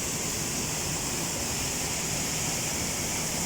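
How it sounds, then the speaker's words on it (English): A waterfall pours down toward a river below, giving a steady, close, dense roar of rushing water that stays constant throughout with no talking. "The water goes down to the river and goes and fit the next waterfalls down below."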